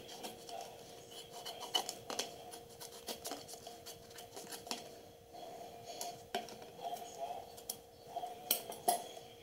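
Scissors snip through the leftover bottom edge of a plastic margarine tub in a series of close, sharp cuts and scraping rubs, with light plastic crackle between them and no voices.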